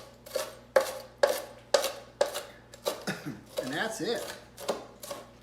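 A knife chops cooked bacon into bits on a cutting board, giving about eight sharp, evenly spaced thuds followed by a short scraping shuffle, with a brief spoken remark near the end.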